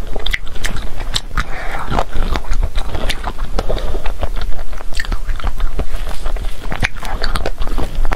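Close, loud bites and chewing of sausage, crisp crunchy snaps repeating in an uneven rhythm over a thick low background, with mouth sounds throughout.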